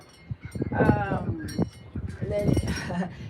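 Farm sheep bleat several times in quick succession nearby, their wavering cries rising over a voice talking.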